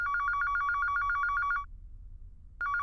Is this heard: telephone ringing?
yes